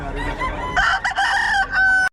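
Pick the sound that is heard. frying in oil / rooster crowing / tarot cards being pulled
rooster crowing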